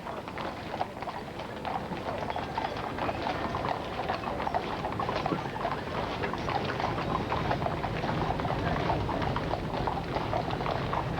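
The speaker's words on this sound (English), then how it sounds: "men on horseback from the King's Troop of the Royal Horse Artillery" Horses of the King's Troop, Royal Horse Artillery, clip-clop steadily in Princess Diana's 1997 funeral procession, a dense, continuous patter of hooves on pavement under a broad crowd-and-street wash.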